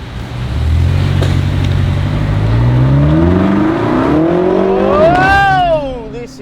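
A 2016 BMW X5 M accelerates hard, its engine note rising through several gear changes into a loud, sweeping high-revving roar, close and steady throughout, with no one speaking over it.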